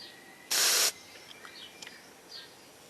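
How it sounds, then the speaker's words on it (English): A single short, loud blast of compressed air hisses through the cavities of a Briggs carburetor for under half a second, close by, then quiet room tone with faint chirps follows. "I'm going to blow out a couple other cavities in here real quick"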